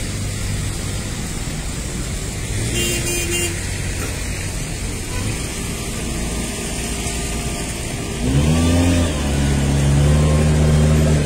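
Cars make their way along a flooded street in Casablanca, a steady wash of water and traffic noise punctuated near the end by a louder engine rising and revving close by.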